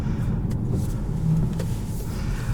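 Inside a 2020 Volkswagen Passat SEL sedan on the move, a steady low rumble of engine and road noise fills the cabin, even and continuous, with no voices.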